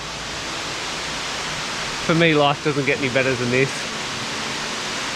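A waterfall at a secluded swimming hole in the Northern Territory pours with a steady broadband rush throughout, while someone speaks briefly over it in the middle.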